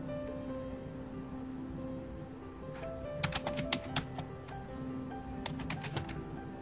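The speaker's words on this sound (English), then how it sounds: "So let me try typing in one of those." Faint keyboard typing, a few quick bursts of clicks over a steady low hum in the background.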